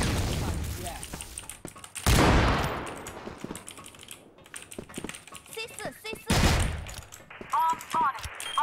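Gunfire from a Barrett sniper rifle in the video game CrossFire at a 2018 CFS match in Ankara, with sharp loud shots bursting at intervals amid clicks and quick in-game sound effects, mixed with excited player chatter.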